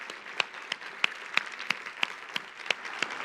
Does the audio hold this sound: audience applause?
yes